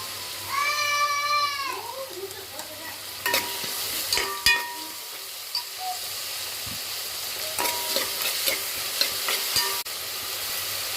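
Onions sauté in a pan until golden, with a soft sizzle beneath repeated scraping and stirring clatters; a cat-like meow is heard near the start.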